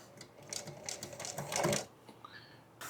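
An upholstery sewing machine fitted with a welt foot stitches on a dog-damaged chair, giving a rapid rattling, clattering run that swells briefly in the middle before stopping, close up with no talk.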